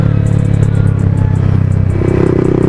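A Yamaha MT15 motorcycle rides through the Khandala ghat, its engine droning steadily and loud with a low harmonic hum, wind and road rumble blending in, no voices heard.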